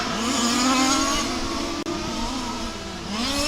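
Race car engines roaring past on the Warm Springs racetrack, a loud continuous high-revving drone with shifting pitch, a brief gear-change dip midway, then another car building up near the end.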